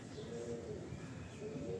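A pigeon coos softly in low, rolling calls, close but quiet against a steady background hum.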